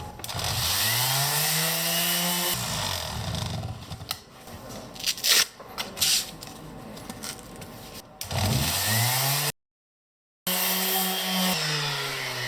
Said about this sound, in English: Let's give it a sand.